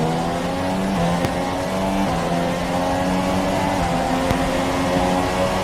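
Formula 1 race cars at the Malaysian GP, a steady high-pitched engine whine held at full power with slight pitch shifts, loud and continuous.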